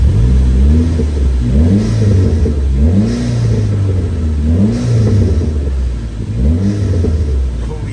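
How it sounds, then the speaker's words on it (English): A 2005 Dodge Neon SRT-4 engine revs repeatedly, rising and falling in roughly six close, loud throttle blips over a steady idle rumble, with no speech over it. "Let me rev it a little bit."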